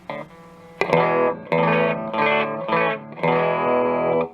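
Guitar played through a distortion pedal set to its darker rhythm mode, giving thick, saturated chords in several loud sustained bursts with brief gaps between them, and no talking.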